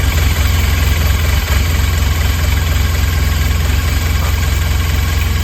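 Polaris Ranger utility vehicle engine idling in neutral after being started, a loud, steady low-pitched rumble with a fast even pulse and mechanical vibration, heard up close without talk.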